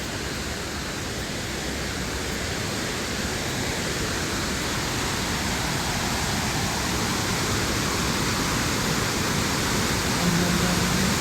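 A waterfall in Ohio running with heavy, high flow roars as a dense, constant rush of water, loud and steady for the whole stretch with no talk over it.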